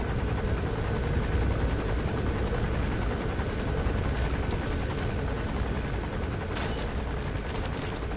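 Steady, loud rotor drone of a helicopter in the video game Metal Gear Solid V: The Phantom Pain, continuous and close, with a few brief game effects near the end.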